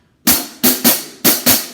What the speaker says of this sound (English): And the swung 8 notes would sound like this.